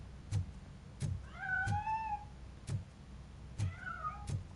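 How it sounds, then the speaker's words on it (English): A cat meows twice in the video game RoboCop Rogue City, drawn-out mid-pitched cries over rhythmic thumping game sounds, with no one talking. "That cat must be hiding inside."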